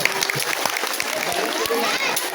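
Audience applause for sixth-grade students at a school event, a steady dense patter of many hands clapping close by, with no other sound standing out.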